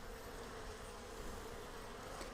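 Honeybees hum in a steady, dense buzz around their hive while ants crawl among them, a faint, even drone that holds unbroken throughout.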